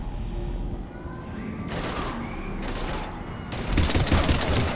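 Gunfire during a Mass Effect 3 battle against Husks, with dense bursts of shots that swell louder toward the end over a constant rumbling game backdrop.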